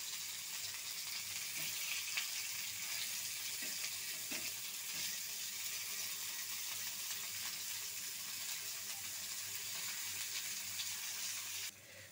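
Kizhanga fish coated in masala frying in a pan, a soft continuous sizzle with faint crackles, steady and fairly quiet without talk.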